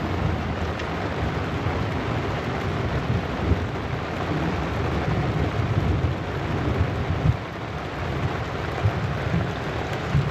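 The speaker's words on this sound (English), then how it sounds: "It's still raining." Steady rain drumming on a rooftop tent during an overnight thunderstorm by a lake, a dense continuous hiss of drops with occasional louder taps, close and enveloping, no voices.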